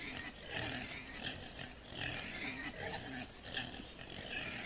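Pigs in a trucking video game grunt and snort as they are herded into a truck, a continuous low murmur of animal noise at moderate distance, fairly quiet throughout.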